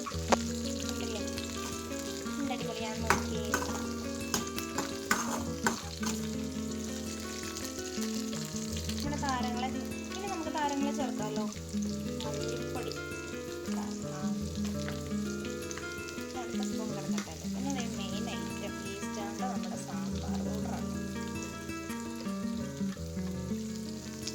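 Okra sautéing and frying in a pan for sambar gives a steady, close sizzle that runs without pause, with a tonal background sound layered over it.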